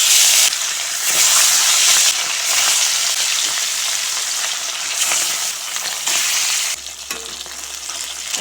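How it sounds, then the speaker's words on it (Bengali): Rohu fish fry in hot oil in a wok, giving a loud, steady sizzling hiss that holds for the whole stretch with small shifts in intensity and no voices. "মাছ ভাজার জন্য কড়াইতে তেল গরম করে নিয়েছি। এখন দিয়ে দেবো মাছ।"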